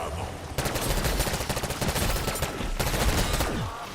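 Rapid, loud bursts of gunfire from a Black Ops 6 zombies match, cracking in dense, almost unbroken volleys after a brief quieter opening.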